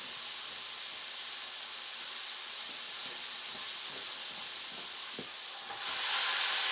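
Hamburger slider patties hiss and sizzle steadily on a flat griddle beneath a grill press, a continuous broadband frying noise with faint scattered pops, swelling slightly louder near the end.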